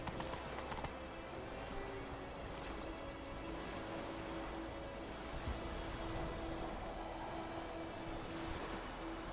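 Hooves of the horse Roach clip-clop at a walk in The Witcher 3: Wild Hunt, a steady quiet rhythm over faint ambient wind and outdoor murmur, no talk.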